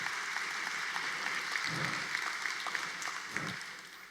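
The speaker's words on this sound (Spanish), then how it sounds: "le va a dar un aplauso al Señor, déselo con fuerza." A church congregation claps together in a sustained, moderate wash of applause, slightly distant and roomy, tapering off toward the end with a few louder bursts.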